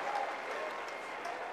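Tennis crowd applauding at Key Biscayne in 2000 after Sampras closes a service game with a winning serve; a steady, dense wash of clapping holds evenly throughout the short stretch without pause.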